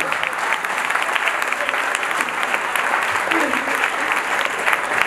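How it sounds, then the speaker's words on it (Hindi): Steady, dense applause from an audience at a poets' honouring ceremony, loud and continuous throughout, with faint voices mixed in beneath the clapping. "और जोरदार तालियां"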